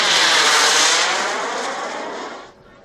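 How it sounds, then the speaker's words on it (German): A Viperjet jet aircraft passes overhead at an airshow in Ertingen, a loud, roaring jet sweep that fills the clip and fades slightly as it moves away, no voices. "Schöner Überflug."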